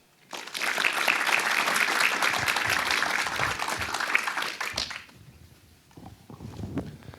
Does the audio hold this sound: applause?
yes